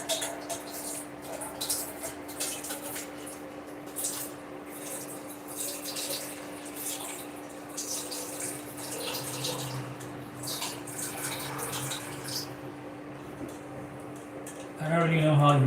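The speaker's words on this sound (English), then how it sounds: "I'm going to add some water. Put some water to it." Water runs steadily into a cooking pot of eggs for vegetable jollof rice, a soft continuous splashing that lasts throughout, with a low steady hum underneath and a louder clatter right at the end.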